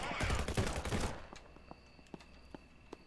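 Storm Area 51 video game gunfire: a dense, loud burst of rapid automatic shots for about a second, then sparse quieter single shots and clicks trailing off in the distance.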